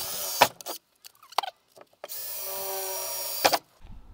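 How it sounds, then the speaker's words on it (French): A power drill bores a hole through a van body for a wood stove flue pipe, a whining motor in short bursts and then one longer steady run with brief pauses between. "on va faire le trou par le bas parce que le tuyau va passer ici"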